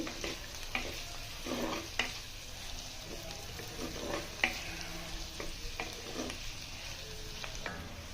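Onions fry gently on a low flame for pesara punugulu curry, with a quiet, steady sizzle and scattered spoon scrapes and clicks against the pan.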